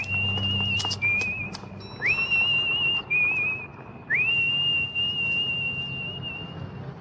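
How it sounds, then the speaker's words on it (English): A woman whistling the eerie melody from the 1968 thriller Twisted Nerve, a clear, close, wavering tune in several sustained phrases with short breaks, over faint background sounds. "the tune she's whistling is taken from the 1968 thriller Twisted Nerve"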